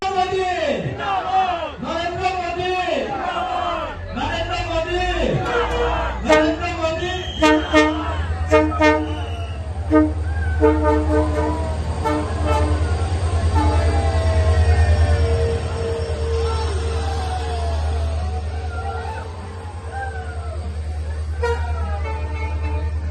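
Train pulling into Hailakandi railway station, opening with a long, loud, wavering horn over a steady low rumble of the rolling train, with crowd noise and voices around.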